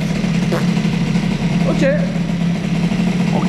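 A boosted Airsal CPI 70 moped engine idles steadily, a continuous buzzing drone heard close, with someone speaking briefly over it.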